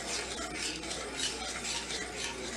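Nacho cheese sauce of grated cheese, flour and milk is stirred steadily in a pan, giving a continuous soft scraping and swishing texture with a faint hiss and no talking.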